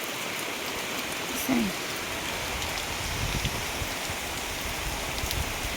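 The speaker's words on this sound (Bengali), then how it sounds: "দেখেন বাইরে এখনো পর্যন্ত বৃষ্টি চলতে আছে" Continuous cyclone rain pours down outside, a steady even hiss of drops on surfaces, with one brief faint chirp early on.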